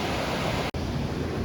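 Flood water pours over Blunder Road at Boss Creek in a steady, broadband rushing roar, with a brief cut just before the midpoint.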